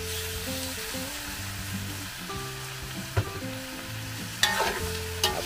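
Onion, garlic and ginger sautéing in a pan for arroz caldo, a steady close sizzle with a few sharp clinks of a utensil near the end.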